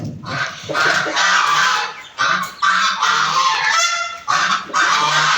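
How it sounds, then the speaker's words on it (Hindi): Loud, repeated honking quacks from several domestic ducks on a farm with chickens, coming in noisy bursts with short pauses between them. "ये बत्तखें पाली हुई उन्होंने। बहुत शोर मचाती है भाई ये"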